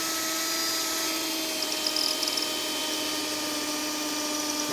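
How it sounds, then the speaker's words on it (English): A power drill bores through the hull of a 2007 Sea Chase 200 flat boat for an underwater light, giving a loud, steady high-pitched whine that holds nearly constant throughout, with no voices. "So we gotta keep drilling."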